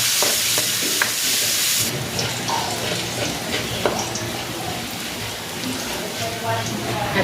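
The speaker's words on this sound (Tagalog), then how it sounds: "Maglalagay na ako dito ng cooking oil. Magigisa na ako ng bawang." Garlic sautés in hot cooking oil in a heated pan, a steady broadband sizzle running the whole time, loudest at the start, with small clinks and stirring noises over it and a voice talking now and then.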